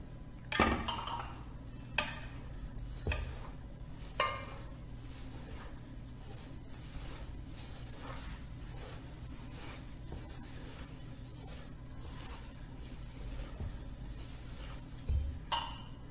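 A spoon or spatula stirs a chocolate ganache mixture in a bowl, giving quiet repeated scrapes and light clinks against the bowl, with occasional louder taps, soft and close with no talking.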